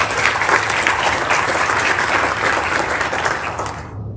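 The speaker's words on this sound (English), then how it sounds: "Let's have a round of applause for our tennis team." Applause from an audience at a school end-of-year ceremony for the tennis team: dense, steady clapping from many hands that holds at an even level for several seconds before stopping suddenly.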